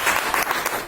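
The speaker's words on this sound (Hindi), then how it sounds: "मैं जिसका भी नाम बोलूं आप लोग ताली बजाते हैं" An audience claps steadily at a seminar, a dense, loud burst of applause that lasts under a second.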